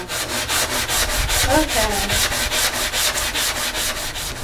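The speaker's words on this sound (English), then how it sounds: "we were done sanding the piece" Second-hand wooden thrift table being sanded, a loud steady rhythmic rasping scrape repeating about four times a second, close up, with brief voices speaking over it.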